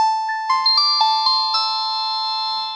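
A Fingerlab Mynth or Flynth synthesizer with distortion plays a few quick bright notes with a gritty, distorted edge that ring on and fade out slowly.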